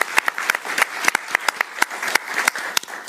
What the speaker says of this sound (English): Let's give Teal a round of applause.